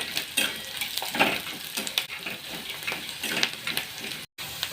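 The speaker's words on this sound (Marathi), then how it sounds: "कढीपत्ता घालूया, कढीपत्ता परतून घेऊया" Curry leaves sauté in a hot pan, giving a steady close crackle and sizzle with scattered stirring scrapes and clinks, and a short dropout near the end.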